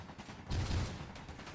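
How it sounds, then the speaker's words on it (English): An interior turret fires a short, quiet burst of gunfire in a video game, a brief rattling volley about half a second long. "What is shooting at me now?"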